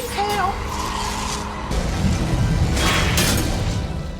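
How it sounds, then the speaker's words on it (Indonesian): In a Ghostbusters film, a sudden heavy boom from an exploding machine bursts in midway, followed by a sustained loud rumbling roar with broadband noise, after an earlier stretch of tonal music-like sound. "ledakan pun terjadi."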